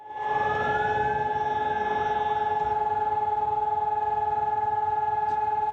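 A civil defense siren sounds across Israel at 10 a.m. on Yom HaShoah, holding one loud, steady wailing tone without pause and carrying a slight echo, with no voices.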